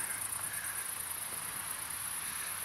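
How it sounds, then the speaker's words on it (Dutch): An insect chirps in a steady high, continuous trill in an urban park, faint and distant-sounding under a soft background hush, with no talking. "Sprinkhaan of zo."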